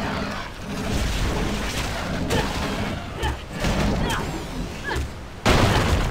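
Guns firing in the video game Torchlight II, a loud dense barrage of booming shots and rumbling blasts with sharper bursts punching through near the middle and end.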